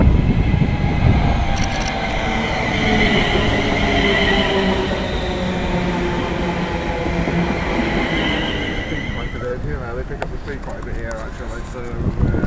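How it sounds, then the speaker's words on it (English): A London Midland class 350 electric unit, number 350128, runs through on the service to London Euston, a steady rolling rumble with faint wheel squeal and wind buffeting, easing off toward the end. "Here's the 1102 to London Euston. One of our London Midland Zeros, 350128."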